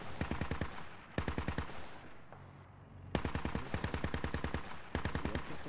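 Rapid bursts of automatic gunfire in the SquadOps video game, several clustered volleys separated by short lulls with distant ambience.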